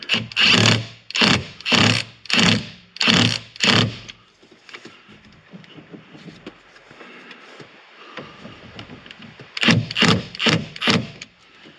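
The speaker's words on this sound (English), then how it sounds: "Now, I'm gonna start this screw, this bolt by hand." A bolt being threaded by hand into a Lamborghini Huracan steering wheel gives a series of rhythmic rasping strokes, then a quieter stretch of faint handling noises before another quick run of rasps.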